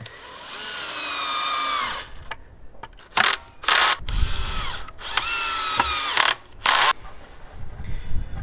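A power drill drives giant screws through the lid of a woodpecker nest box made from a log, in several long whining bursts with short pauses and sharp clicks between them, close and loud.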